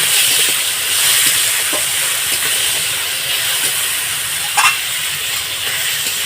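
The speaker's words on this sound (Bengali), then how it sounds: "আমি আলুটাকে ভালো হয়ে ভেজে নেব" Potato pieces fry in hot oil seasoned with salt and turmeric, a constant loud hiss and sizzle with a few sharp pops and crackles scattered through.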